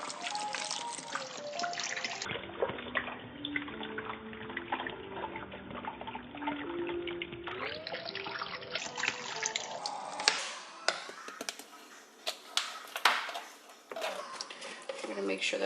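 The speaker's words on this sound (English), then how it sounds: "Now we're gonna go ahead and fill it up with water." Water runs steadily from a tap into a cooking pot holding chicken, a close, continuous trickling and splashing whose pitch rises as the pot fills for about fifteen seconds.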